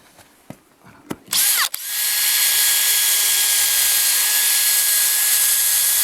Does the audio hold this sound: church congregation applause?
no